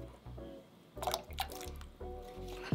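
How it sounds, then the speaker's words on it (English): Potatoes drop into a pot of salted water on the stove, giving soft splashes and wet plops in short bursts around a second and again near two seconds, over a quiet steady background. "Go ahead and put your potatoes in."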